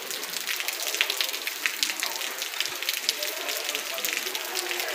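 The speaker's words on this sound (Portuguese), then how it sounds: "Muita chuva, graças a Deus." Heavy rain falls outdoors on a town square, a dense, continuous hiss and patter with scattered louder drops throughout.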